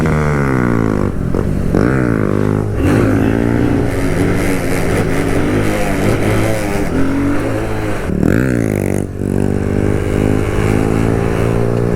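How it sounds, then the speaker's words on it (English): A Kawasaki Z125 motorcycle ridden with its aftermarket exhaust broken off gives a continuous close engine drone that rises and falls as the rider shifts and revs, steady for the whole stretch. "y'all might notice that the bike sounds a little quieter. I actually broke off the that aftermarket exhaust I had"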